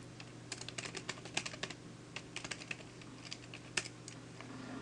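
Quiet typing on a computer keyboard, a close, irregular patter of light key clicks in short bursts over a steady low hum.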